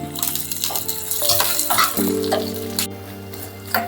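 Cumin seeds, crushed garlic and curry leaves tempering in hot oil for a home-cooked meal, a loud, close, steady sizzle and crackle with stirring scrapes and a bright burst of spitting partway through.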